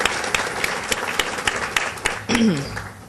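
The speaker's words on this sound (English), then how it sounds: "let's give Elisa a well-deserved round of applause" A room full of people applauding, dense rapid clapping with distinct sharp claps near the listener, fairly loud and steady, before a voice breaks in over the fading applause near the end.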